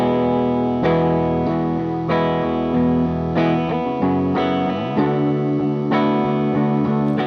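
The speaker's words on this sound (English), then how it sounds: "starting with our original amp sound" Mixed DAW music played back through a guitar amplifier, heard with the plain amp tone: a dense, steady harmonic mix with rhythmic chord changes and percussive hits, moderately loud and continuous, with no voices.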